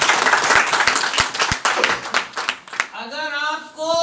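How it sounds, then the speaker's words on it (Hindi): An audience at a business seminar claps loudly, with a burst of scattered hand claps that thins out and gives way to a voice speaking over the tail end. "एक बार जोरदार तालियां बजाइए"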